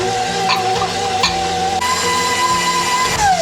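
An electric mixer whirs steadily as it blends cookie dough of creamed butter, sugars and an egg. The motor drones loud and close, and its pitch rises partway through.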